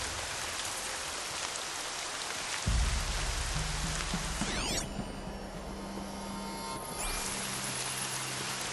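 Steady rain in Horizon Zero Dawn, a dense, even hiss of falling drops throughout, with a low rumbling drone joining partway and a brief whooshing sweep near the middle; no voices.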